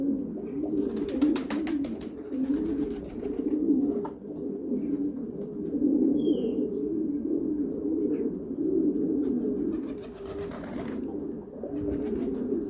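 Several pigeons coo together in a loft, making a continuous low, warbling chorus. Scattered clicks and brief flutters sound over the chorus, and a faint voice is heard at times.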